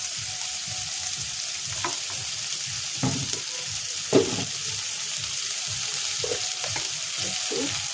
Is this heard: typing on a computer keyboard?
no